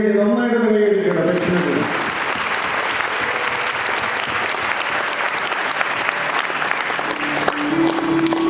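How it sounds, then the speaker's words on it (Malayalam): A church congregation at a priest's ordination at St Ritha Church breaks into dense, steady applause. The applause follows a brief spoken line and continues loud and unbroken to the end. "അവസാനമായിട്ട് നമ്മുടെ പ്രിയപ്പെട്ട മകന് വേണ്ടി നന്നായിട്ട് കൈയടിക്കണം."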